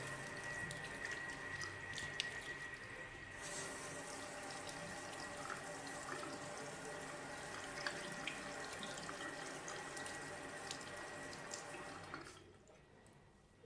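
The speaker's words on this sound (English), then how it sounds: "we're going to rinse it off with some warm water" Warm tap water runs steadily into a sink to rinse makeup brushes, a continuous close splashing stream with faint drips that cuts off near the end, leaving near silence.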